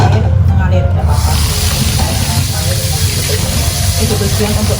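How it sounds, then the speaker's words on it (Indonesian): Strained kwetiau noodles are rinsed under running water, a loud, continuous, close splashing rush of water that holds steady throughout. "Setelah disaring, kita siram dengan air mengalir"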